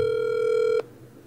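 A phone rings with a steady electronic tone in the Roblox game Pet Simulator 99, one sustained ring lasting under a second before cutting off sharply into quiet.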